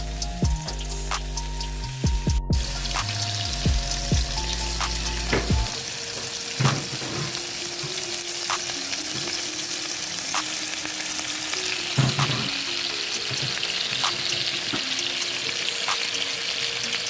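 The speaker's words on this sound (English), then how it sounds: "I'm flipping my patties over because they have browned on the other side." Burger patties fry in a pan with a loud, continuous crackling sizzle and spitting pops, after a few clanking knocks at the start as they are flipped.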